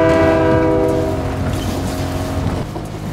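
A loud, close train horn from the video game character Wayne the train blares steadily and then fades slightly, over a low rumbling rail and engine noise, with no talking.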